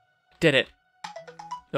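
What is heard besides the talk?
phone ringtone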